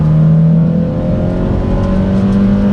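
A car with a modified exhaust tip accelerating hard from a brake-boosted launch, a loud, close engine roar with a steady droning hum rising in pitch.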